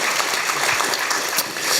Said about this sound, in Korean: 박수 쳐주는 거예요